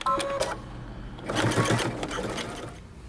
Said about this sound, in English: Now pivot and continue sewing around your waistband.